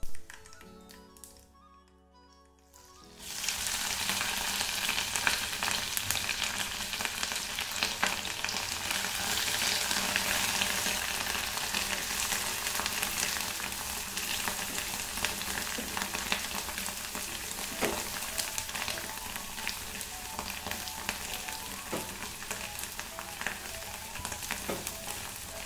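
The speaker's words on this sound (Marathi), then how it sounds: "अद्रक, लसूण, कांदा आणि खोबरं, कढीपत्ता हे सगळंच मी हे छान फ्राय करून" Ginger, garlic, onion, grated coconut and curry leaves fry in hot oil in a home kitchen, with a steady close sizzle and occasional spoon taps and stirring after a brief quiet start.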